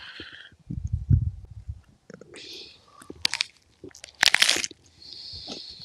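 Crunchy food is chewed close to the mouth in several loud, crackling bursts separated by quieter gaps and soft rustles.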